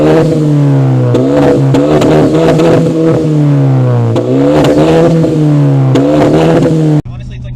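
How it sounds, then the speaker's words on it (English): A Hyundai Genesis Coupe's turbocharged engine revs repeatedly while idling at a light, each throttle blip rising and falling in a close, loud rhythmic pattern, then cutting off abruptly near the end. "when you're at a light and you're bored, you just feel like revving it"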